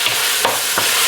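Andouille sausage sautéing in a pot, a steady close sizzle with a few brief scrapes of stirring.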